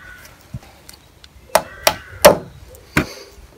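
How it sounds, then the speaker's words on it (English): A roll plug is tapped into a drilled hole in brickwork during cabin framing, producing several sharp, close knocks at an uneven pace, with a faint softer tap before them. "tap in a roll plug"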